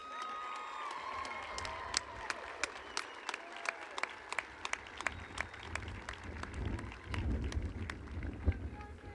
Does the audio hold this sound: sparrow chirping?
no